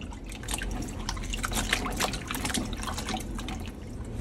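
Snow peas being rinsed in water at a kitchen sink, a close, continuous splashing and dripping with irregular liquid spatters and trickles throughout.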